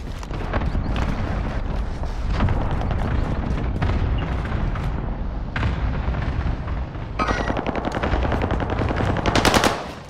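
Rapid automatic gunfire and heavy bursts from the Call of Duty: Modern Warfare video game crackle in dense, loud volleys, with sharper clusters of shots toward the end.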